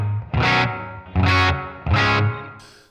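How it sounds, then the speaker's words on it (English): Electric guitar played through a club reverb on a Sonicake Matribox II Pro multi-effects unit, with light distortion: three strummed chords ring out one after another, each trailing off in a roomy wash before the next. "So the next thing I do then is add a reverb."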